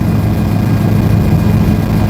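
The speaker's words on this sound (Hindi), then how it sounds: "हेलीकॉप्टर से केदारनाथ की यात्रा हो रही है।" Steady, loud engine and rotor drone inside a helicopter cabin in flight to Kedarnath, a continuous low-pitched rumble with no talk over it.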